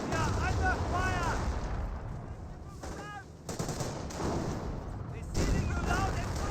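Gunfire in a Company of Heroes 1 multiplayer battle, with dense crackling rifle and machine-gun bursts and booming blasts, steady and loud throughout, under voices talking.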